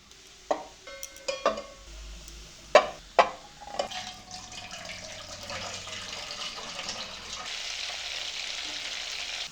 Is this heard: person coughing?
no